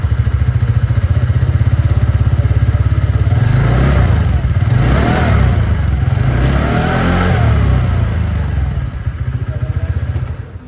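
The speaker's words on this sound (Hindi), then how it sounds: "यहाँ पर आप लोगों ने एंटॉर्क की जो रेस XP मॉडल की यहाँ पर जो एग्जॉस्ट साउंड है वो सुन ली है" A TVS Ntorq 125 Race XP scooter's exhaust runs steadily close by with a loud, continuous low idle, then rises in a few revving swells before settling back down.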